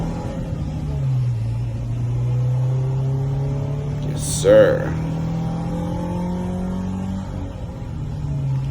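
A car engine hums steadily and climbs gradually in pitch as it accelerates away from a traffic light under 50% throttle, with a short spoken reply midway.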